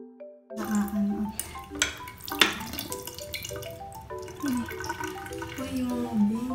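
Tap water runs from a faucet over a hand to wash off a velvet lip dip product, a steady splashing stream under a voice speaking through most of it.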